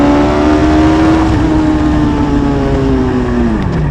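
A Hayabusa-powered Westfield car accelerates hard on a track at a Forge action day, its loud, close engine holding a high, buzzing note before the pitch drops near the end.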